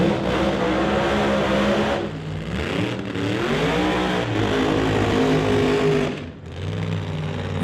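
Supercharged drag race cars, a screw-blown Shelby Mustang against a roots-style supercharged 1955 Chevy, roar loud and close at a Chilliwack track, engine note rising and dipping with a brief drop near the end.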